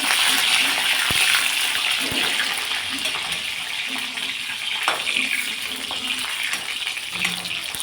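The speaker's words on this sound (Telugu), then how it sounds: "ఈ వంకాయని నూనెలో వేస్తున్నానండి ఇలా కొంచెం మనం తిప్పుకుంటూ వాటిని వేయించుకోవాలి" Brinjal frying in oil for a Telangana bagara baingan masala curry, a steady broad sizzle and hiss throughout with faint clinks, while someone talks over it.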